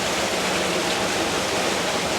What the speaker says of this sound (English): including this amazing water feature. We've never seen one like it.